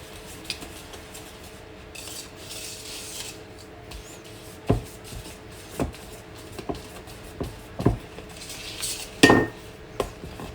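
Brownie batter with dates and walnuts being whisked in a bowl, the sides scraped as it mixes: scattered utensil knocks and scraping clinks against the bowl over a low steady background, with several sharper taps standing out.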